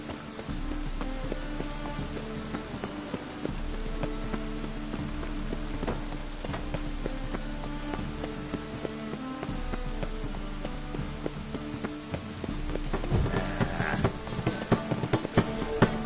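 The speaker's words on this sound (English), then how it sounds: "It's raining buckets." Heavy rain falls in the game The Witcher 3, a steady dense patter of drops on surfaces continuing throughout with a low constant hum beneath, growing a little busier and more clattery near the end.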